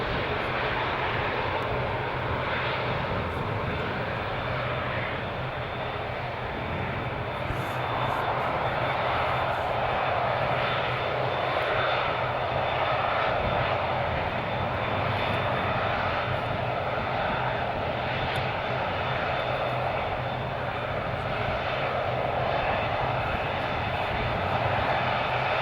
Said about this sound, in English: A menacing plane.